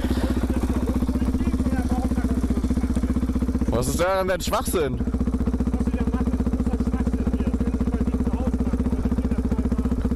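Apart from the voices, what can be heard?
motorcycle with loud exhaust revving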